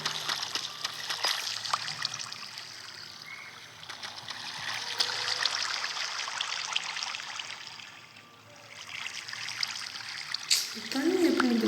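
Flowing water in the game Minecraft, a steady trickling stream with bright splashy hiss running throughout, swelling and dipping slightly, with a brief louder slosh near the end.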